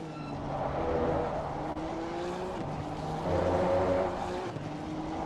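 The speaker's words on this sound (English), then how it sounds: "The Honda sounding like a little soda can taped onto its muffler." Honda race cars at Silverstone in a one-make racing video game, a continuous buzzing engine drone with shifting pitch and faint tyre squeal, steady and fairly loud with no talk.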